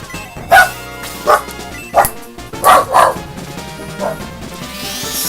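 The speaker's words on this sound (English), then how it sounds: "Sorry for the barks." Several sharp dog barks ring out in irregular bursts over a steady background of music, moderately loud and fairly close.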